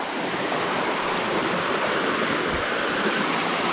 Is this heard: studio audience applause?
no